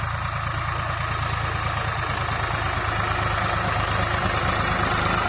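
A tractor engine idling during fertilizer sowing in a field, a steady loud low rumble with continuous throbbing vibration, close and unbroken, with no talk.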